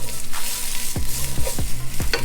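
Garlic frying in a pan for a water spinach dish, a bright continuous sizzle broken by several sharp scraping strokes of a utensil stirring it, close and loud, no voices.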